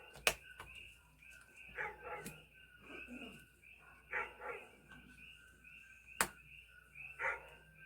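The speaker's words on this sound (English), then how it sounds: "it's making my dog bark at his shadows" A dog barks in short separate bursts at a moderate distance, with several sharp transient knocks between the barks and light background noise.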